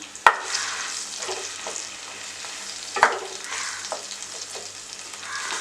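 Ground onion paste and green chillies fry in a pan for a paneer white kurma, a dense, continuous sizzle close by, with two sharp knocks of a spoon against the pan.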